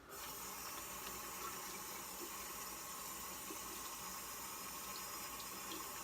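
Tap water runs steadily into a sink while makeup brushes are rinsed, a continuous loud gushing splash with no pauses and no talking.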